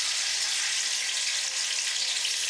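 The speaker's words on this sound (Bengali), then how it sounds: "এই দেখুন প্রথমে আমি টমেটো গুলো দিচ্ছি তেলের মধ্যে।" Tomatoes fry in hot oil in a pan for a homestyle paneer masala, making a loud, dense, continuous sizzle close up, with no voices.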